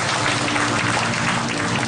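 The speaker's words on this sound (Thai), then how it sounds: "ขอเสียงปรบมือด้วยนะครับ" Audience applause at a Thailand franchise awards ceremony for the winner of an Excellent Franchise Business Performance Award, a house-building company, a dense steady wash of clapping filling the room throughout.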